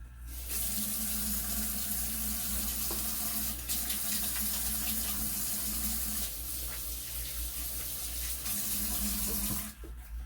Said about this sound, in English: I did wash my hands before I started, which I'm going to do again because this is very greasy